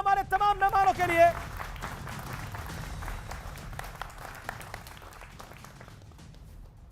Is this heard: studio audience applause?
yes